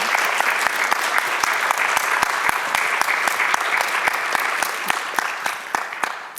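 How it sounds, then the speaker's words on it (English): Audience applause for the speakers at the close of a healthcare conference session: a modest room of people clapping steadily at a moderate level, with a few distinct sharp claps standing out above the patter. "So I really would like to ask an applause for all our speakers"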